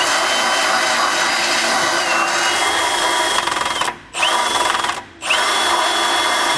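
A loud, steady power tool whine grinding into metal, enlarging a hole in a 2003 Ford's frame for a trailer hitch bolt, running continuously with two brief pauses near the end before it starts up again.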